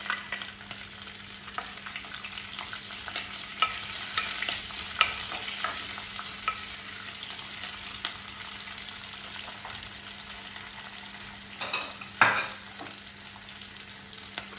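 Garlic fries in a pan for a brinjal and dried-fish curry, a soft continuous sizzle with a few sharp stirring scrapes near the end, close and fairly quiet.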